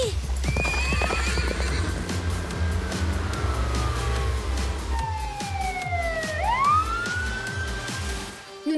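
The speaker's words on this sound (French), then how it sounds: "Je m'occupe du cheval." A cartoon horse gallops with rapid, rhythmic clip-clop hoofbeats and lets out a loud whinny, while a siren-like wail rises and falls over the chase and a voice briefly speaks.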